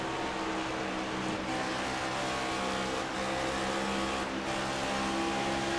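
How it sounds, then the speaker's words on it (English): A race car on track in an iRacing Cup Series race at Dover, with the engine held at a steady loud drone as the driver feathers the throttle in and out through the corners, close and continuous. "As you definitely hear him feathering that throttle pedal."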